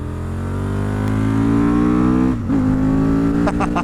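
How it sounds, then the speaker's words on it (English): A motorcycle engine revving hard and close while the bike lifts into small wheelies, a loud sustained rising drone with a brief dip and gear change near the end. "It's just these like little baby wheelies that this bike does"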